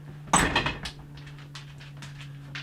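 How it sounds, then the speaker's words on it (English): A door swings shut in a home storage room with a single close, sharp knock and brief rattle, followed by faint rustling. "The door closed on Remy"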